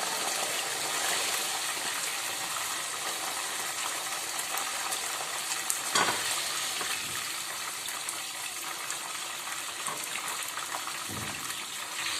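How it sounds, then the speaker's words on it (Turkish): Potatoes sizzle steadily in hot oil in a home kitchen, a dense continuous frying hiss and crackle holding even and close for the whole stretch, with no voices. "Patates kızartırız."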